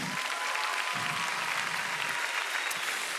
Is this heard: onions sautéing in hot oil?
no